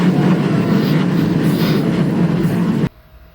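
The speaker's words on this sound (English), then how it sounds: "And the freight cars clattered along." Freight train cars rattle and clatter steadily along the line, a dense close rumble that cuts off abruptly near the end.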